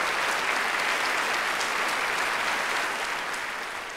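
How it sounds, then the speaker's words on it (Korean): A large audience applauds at a Hwandan Gogi book concert on Ganghwa Island, a loud, even, continuous roar of many clapping hands that eases slightly toward the end, with no voices. "다 함께 한번 큰 박수로 오늘 이 소중한 일요 시간 함께 하면서 오늘 말씀 서두를 열까 합니다."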